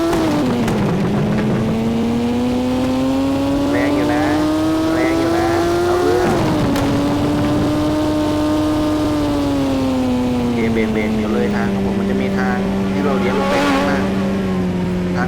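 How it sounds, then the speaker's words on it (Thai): Car driving in the Roblox game The Rider: a continuous engine drone that climbs and shifts pitch, with a brief dip and a surge midway, steady and loud throughout, with a voice faintly mixed in. "เดี๋ยวเราจะขี่รถไปสนามแข่งกันนะครับผม"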